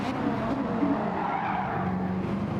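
A GTR race car skids through a corner at Laguna Seca in a sim racing league game, with steady engine drone and tire noise running continuously at even loudness.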